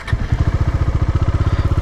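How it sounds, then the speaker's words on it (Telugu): A motorcycle engine fires up and settles into a fast, even idle, its loud low pulsing thump close by and alone. "ఇప్పుడు బైక్ స్టార్ట్ చేద్దాం."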